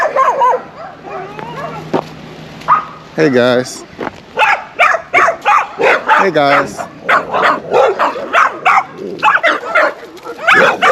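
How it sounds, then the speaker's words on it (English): Several dogs at a rural front gate bark and yip in rapid, loud bursts, some with whimpering tones, close by and continuing throughout while someone speaks briefly. "It's got a bunch of dogs too."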